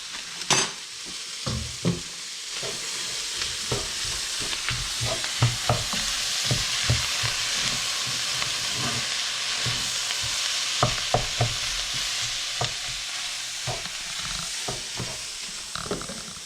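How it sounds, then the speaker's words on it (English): White rice being stirred in melted butter in a pan, a steady sizzle and frying hiss with repeated scraping stir strokes throughout, close and fairly loud, no talk. "Give it a stir so everything is coated in butter."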